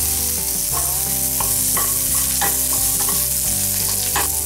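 Onion hits hot oil already crackling with mustard seeds, chana dal, urad dal and curry leaves for poori masala. A loud continuous sizzle runs throughout, with repeated metallic stirring scrapes and a humming tone underneath.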